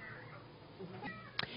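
A tabby cat gives a faint, short meow over quiet room noise, a single brief cry standing out near the end of a soft background.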